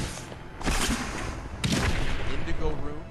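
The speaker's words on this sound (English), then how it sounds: "If you put Crimson Rune in cluster arrow, increases the damage of explosion at the point of impact." Rapid bursts of explosions from cluster arrow grenades with the Crimson Rune in Diablo 3, a dense rattling barrage of booms with two sharper impacts, loud and continuous amid game noise, with talk faintly mixed in.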